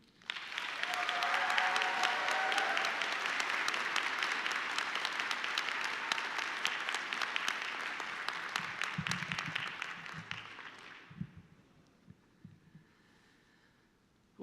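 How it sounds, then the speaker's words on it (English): Commencement audience applauds at length after a graduation speech, a dense, loud wash of clapping from a large crowd that fades out near the end, leaving a few scattered sounds. "Can I have a little extra applause for that?"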